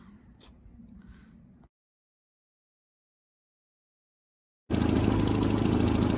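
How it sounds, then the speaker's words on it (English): A 1960 Land Rover Series II 88-inch petrol pickup engine runs at a steady idle, its even drone cutting in abruptly after a few seconds of near silence. "A quick video of the engine running on the 1960 Series 2."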